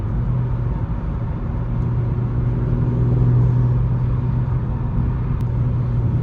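Audi S4/S5 B9 with the front dual resonator deleted, running in dynamic mode: a steady, loud low exhaust drone and rumble that holds evenly throughout, with no revving swell.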